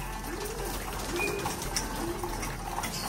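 Pigeons kept in a backyard loft coo softly in a low, repeated murmur, close by over a faint watery background hiss, with no talk.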